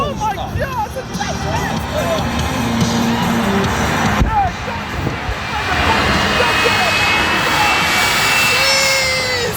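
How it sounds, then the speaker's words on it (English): Jet aircraft racing at an airshow roar loudly and continuously, with crowd babble and announcer speech underneath. "Oh my God, it's a jet"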